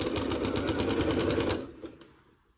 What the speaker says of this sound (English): I do like to do a little back stitch, and then we can just continue sewing down.